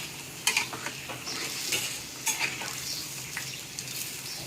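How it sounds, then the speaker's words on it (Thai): A pot of boiling fish curry with pickled bamboo shoots and catfish is stirred, giving bubbling sizzle with a few scraping, clinking strokes of a utensil against the pot, close and steady, with no talking. "เขาเดือดแล้วนะคะเราก็คนเขาหน่อยนะคะ"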